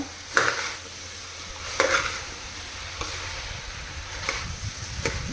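Elephant foot yam pieces being stirred with masala in a pan, a soft scraping stir repeating about every second and a half over a low steady sizzle, close and fairly quiet, with no talk.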